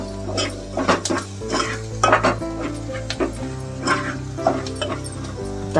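Chicken liver cooks in oil in a pan, and a utensil scrapes and clinks against the metal in an uneven rhythm of stirring strokes over a faint sizzle, close up with no talking.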